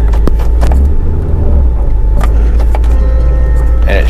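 A Corvette runs with a loud, close low engine rumble after a shift cable repair, with clicks and clunks from inside the car as it is shifted, and a person talking over it.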